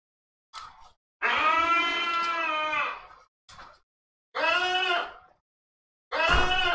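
A goat bleats in several long, wavering cries, each clearly pitched and loud, with short gaps between calls and brief softer bleats in between, heard alone with no talking.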